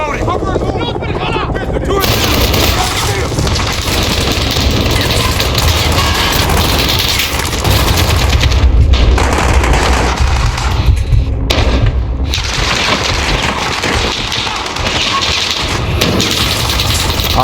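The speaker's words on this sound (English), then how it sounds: "Machine gun से attack हो रही है हमारे ऊपर।" Sustained heavy machine gun fire in the Call of Duty Modern Warfare video game, continuous loud bursts and booms with brief gaps, layered with battle noise and occasional voices.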